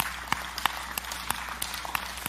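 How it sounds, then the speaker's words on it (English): Scattered claps from a church audience during a sermon, sparse and fairly faint, with a few sharper individual hand claps over a low room hum. "I know you're clapping"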